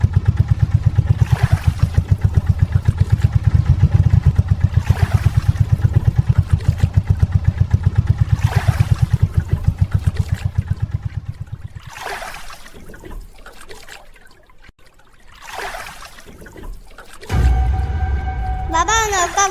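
A cartoon motor boat in the Sundarbans pulls away on the water, its engine chugging in a fast, steady putter that later fades, while voices talk over it.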